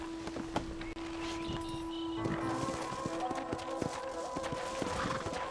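Horse hooves clip-clop steadily in the Red Dead Redemption video game on a farm, a regular walking rhythm heard close, mixed with game music and ambience.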